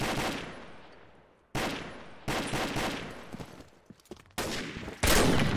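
Gunfire in the Combat Arms shooter comes in several sharp, loud bursts, each a sudden blast that decays over a second or so, with rapid shots and clicks between them.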